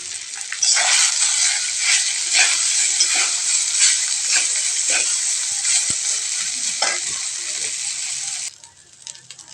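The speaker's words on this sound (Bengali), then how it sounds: "এবার ভালো করে ভেজে নেব।" Boiled pasta sizzles and crackles in an oiled pan as it fries, a dense, close hiss broken by the scrape of stirring, continuing for about eight seconds before it drops away.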